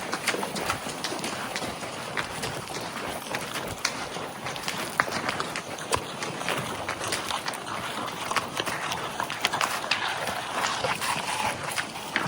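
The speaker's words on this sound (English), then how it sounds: "at Big Creek today riding my horse Doc." A horse walks along a wooded goat trail in Missouri, its hooves clip-clopping in a steady, close rhythm with leaves and brush rustling around it.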